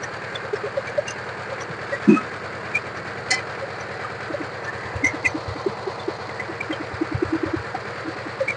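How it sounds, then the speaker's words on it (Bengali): A used 2018-19 power tiller engine runs at a steady idle, a low, even chugging with small clicks and rattles scattered through it and no speech. "একদম রানিং পাওয়ার টিলার, একদম রানিং।"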